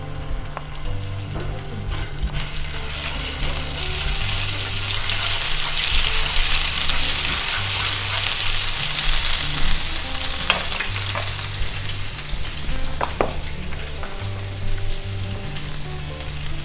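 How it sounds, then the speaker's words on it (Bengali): A teaspoon of garlic frying in hot oil in a pan, giving a steady close crackling sizzle with occasional pops and scrapes, and a low intermittent hum underneath. "প্যানের মধ্যে তেল দিয়ে আমি এখন তেলের মধ্যে 1 চা চামচ রসুন দিয়ে দিলাম"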